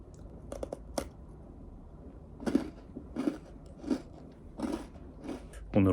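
Crunchy cookie bitten and chewed close up, a series of about six sharp crackling crunches spaced roughly half a second to a second apart in a quiet room.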